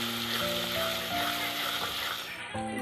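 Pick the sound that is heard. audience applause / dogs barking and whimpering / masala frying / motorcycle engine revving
masala frying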